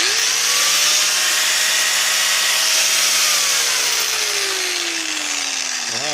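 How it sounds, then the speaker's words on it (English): A rebuilt angle grinder runs steadily at high speed, a loud continuous whine with a slowly falling pitch as it winds down near the end, heard alone without talk. "So I got this grinder back working."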